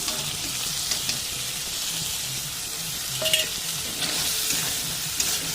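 A paste of ginger, garlic, cumin and dried chilli frying in a pan, giving a continuous close sizzle with occasional stirring scrapes and taps, no talk.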